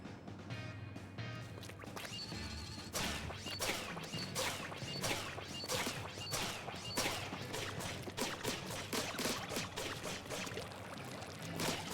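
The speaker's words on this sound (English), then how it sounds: "Boom, missiles." Tenta Missiles special weapon in Splatoon 3 fires and lands as a rapid series of sharp whooshing impacts and splashes, dense and rhythmic over game music, loud and continuous.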